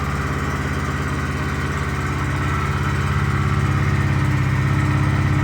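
Single-cylinder 125cc liquid-cooled motorcycle engine running at a steady idle, a continuous low throbbing hum that rises slightly toward the end, close and without talk.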